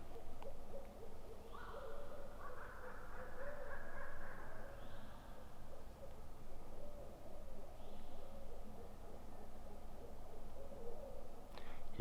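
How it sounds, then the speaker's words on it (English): Owls hooting in Mississippi woods during a spring turkey hunt, a few faint, distant calls repeated at intervals over a quiet outdoor background, with no one talking. "I went about where you hear those owls hooting"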